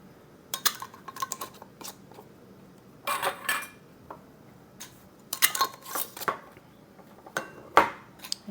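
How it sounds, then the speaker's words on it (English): Warm glass canning jars of homemade strawberry jam clink as metal lids and screw rings go on and are turned fingertip tight, giving scattered light metallic clicks and scrapes, close by and without speech. "So just fingertip tight, you're going to put your lids and rings on."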